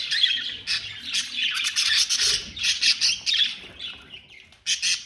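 Budgerigar chicks from a second clutch chirp and squawk continuously, a dense, busy chatter of many small birds close by with no voices.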